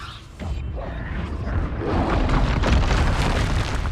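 A Confringo blasting spell explodes in Hogwarts Legacy with a loud, rumbling boom that swells and churns for several seconds, dense and close, with no one talking.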